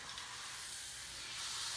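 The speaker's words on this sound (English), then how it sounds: "So what I want to do is put the tortillas in hot oil real quick." Corn tortillas sizzle in hot oil while being softened for chicken and cheese enchiladas, a steady, close, loud hiss that runs unbroken for about two seconds with no talking.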